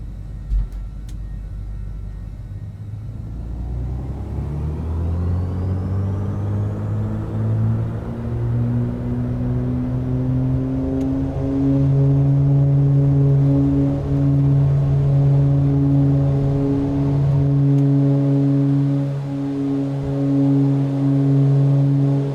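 Simulated twin piston engines of a Beechcraft Baron in a flight simulator game spool up for takeoff near the Strait of Gibraltar, a droning tone rising in pitch and volume before settling into a loud, steady roar.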